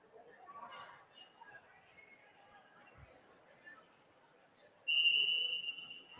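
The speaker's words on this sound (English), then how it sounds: "Whistle blows." A referee's whistle blows at a high school volleyball match in a gym, one clear sustained blast rising over the faint crowd murmur in the background.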